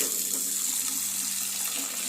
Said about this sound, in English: fill it with water here.